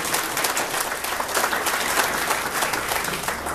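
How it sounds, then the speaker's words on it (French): An audience at a CS Verviers club gathering claps steadily and densely, a sustained wash of applause with no break across the whole stretch. "On l'applaudit bien fort, là, monsieur."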